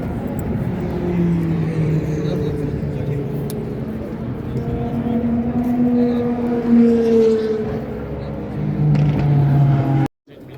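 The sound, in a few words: Lamborghini Huracan Evo race car passing at Spa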